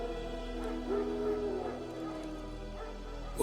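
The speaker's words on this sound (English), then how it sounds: "Wild dogs." Wild dogs in The Witcher 3: Wild Hunt, heard as a brief yip and bark close by over a steady low ambient drone, with a faint voice underneath.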